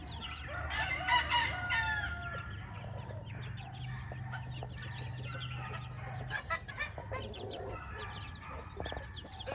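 Chickens cluck and call in a farmyard among gamefowl brood cocks, with clucks and short calls scattered throughout over a low steady hum, plus occasional scratching and a few brief sharper cries.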